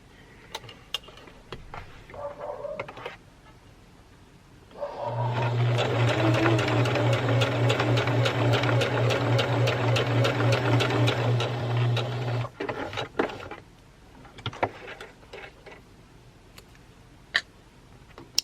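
A sewing machine stitches a fabric witch gnome, running loud and steady up close for about seven seconds with a rapid rhythmic hum, preceded and followed by handling clicks and fabric rustles.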